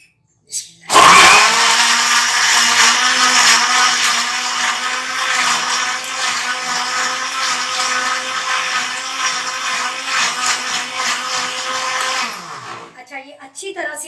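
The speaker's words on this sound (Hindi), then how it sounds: "अब हमने पहले इसको ब्लेंड करना है इन तमाम चीज़ों को।" Kitchen blender whirring loudly as it purees raw mango with sugar, mint, black salt and water for a sharbat, starting abruptly and running at a steady high pitch for about eleven seconds before stopping.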